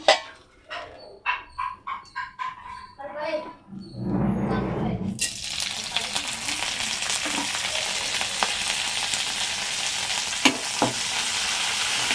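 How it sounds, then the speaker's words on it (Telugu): A South Indian tempering of spices and dried red chillies hits hot oil and erupts into a loud, steady sizzle that crackles on for several seconds. It follows a few seconds of someone talking over quieter kitchen sounds. "ఇప్పుడు చిన్న పోపు పెట్టుకుందాం, ఓకేనా? చూడండి, పోపు చేస్తాను."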